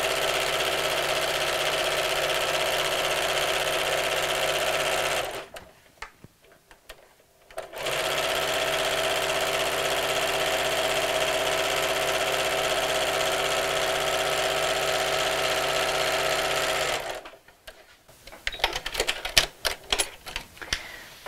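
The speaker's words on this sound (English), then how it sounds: "Let's put my standard foot on my sewing machine." A domestic sewing machine fitted with a standard foot stitches a half-inch seam on a Christmas bauble applique cushion, running in a fast, even mechanical whir for about five seconds, pausing, then a long steady run followed by stop-start bursts.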